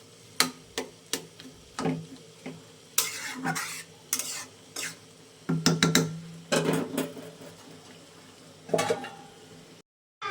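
Tomato chutney cooks in a pan as a spoon stirs and scrapes it, making repeated clinks and knocks against the pan over a low sizzle.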